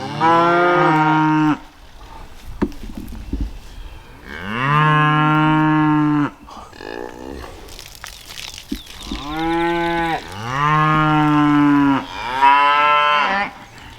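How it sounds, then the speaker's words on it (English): Cows on a spring farm ridge bawl and moo loudly in long drawn-out calls, several overlapping from different animals, with gaps of quiet field noise between. "cows balling up on the ridge"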